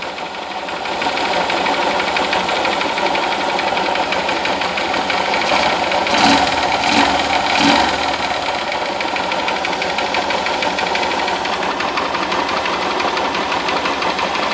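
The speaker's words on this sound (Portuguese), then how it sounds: "O motor tá bem caladinho agora." A Honda Fan 125 motorcycle engine, earlier noisy from its valves in the cylinder head, runs close and loud at a steady, quiet-sounding idle with a fine rapid ticking, and a few brief louder pulses midway.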